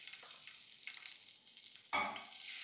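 Green chilies and mustard seeds sizzling in a little hot oil, a soft continuous crackle with a louder burst of sizzling near the end as more goes into the pan.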